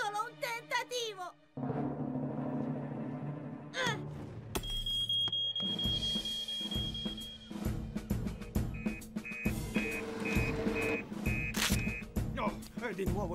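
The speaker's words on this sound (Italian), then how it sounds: "Si tratta sicuramente di un altro falso allarme, Sam." A cartoon supermarket alarm rings with a steady electronic beeping tone through a busy animated scene, mixed with thumps, clatter and children's voices speaking.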